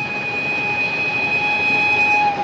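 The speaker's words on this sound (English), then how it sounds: "Just listen to that whistle. Ain't it a dandy?" A steam-era train whistle in a 1949 western film sounds as a sustained, steady high tone over the low rumble of rolling railroad cars, held evenly throughout with no voices.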